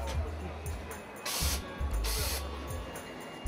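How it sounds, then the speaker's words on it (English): Robotic laundry handling system with 3D visual sensors working on washed and dried laundry, giving repeated mechanical ratcheting clicks and whirs with two loud hissing bursts, steady machine hum underneath. "a robot system with 3D visual sensors, which handles laundry after it's been washed and dried"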